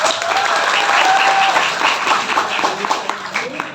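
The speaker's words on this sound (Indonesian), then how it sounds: "Tepuk tangannya" A crowd at a school Maulid Nabi celebration breaks into loud, dense applause, a continuous wash of many hands clapping with a faint tone and a few voices mixed in.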